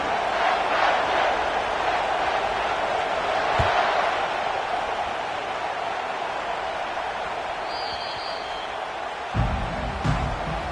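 A packed stadium crowd roars steadily at a college football game against Michigan, a dense sustained wall of cheering and noise from the stands, with a brief sharp thump near the end.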